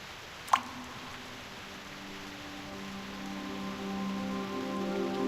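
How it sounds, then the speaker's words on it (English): Rain falling in the video game Reverse: 1999: a soft, steady hiss of drops that thickens slightly over time, with one sharp tap near the start and a faint tonal hum underneath. "Go ahead and touch the raindrops."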